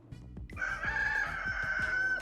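A rooster crows once in a long, loud, drawn-out call, played as part of an animal sound game, with a few soft knocks and taps underneath at the start.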